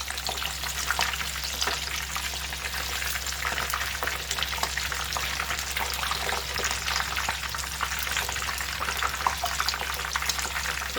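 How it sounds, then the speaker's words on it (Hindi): Mutton keema cheese rolls fry in hot oil over a medium flame, giving a steady, even sizzle and crackle that runs on without a break, close and fairly quiet, with no talking. "अब हम इसको मीडियम फ्लेम पर इस तरह से फ्राई करेंगे।"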